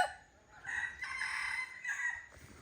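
A rooster crows twice in close succession, a loud, near cock-a-doodle-doo with strained, rising calls, then a brief quiet tail with no voices.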